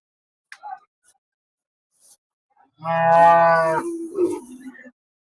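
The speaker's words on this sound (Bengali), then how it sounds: "এটা তো মনে হয় একটা শাহিওয়াল গরু" A Sahiwal cow gives one close, clear moo lasting about a second at a quiet village cattle market, preceded by a few faint scattered sounds.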